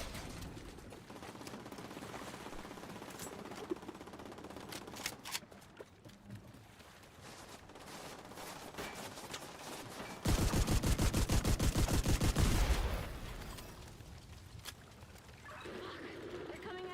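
Gunfire in The Division 2 video game: a dense burst of rapid automatic shots from about ten to thirteen seconds, with scattered single shots and game effects before it, set under voices and background battle noise.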